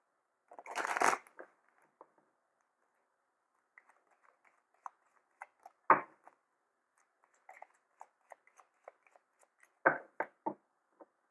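A Cigano (Lenormand) fortune-telling deck riffles and snaps in a quick burst, followed by scattered soft ticks and flicks as cards are handled and laid down one at a time.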